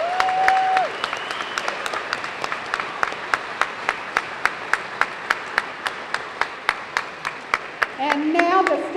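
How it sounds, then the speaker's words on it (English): A banquet audience applauds a group of teachers, the clapping steady and rhythmic with sharp evenly spaced claps over a diffuse crowd wash for about eight seconds, fading near the end as someone begins to speak. "Let's give them all a big round of applause"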